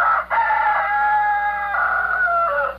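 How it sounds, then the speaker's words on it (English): A rooster crows loudly and close by, one long drawn-out call after a short opening burst, with no other sounds around it. "Happily, the roosters crow."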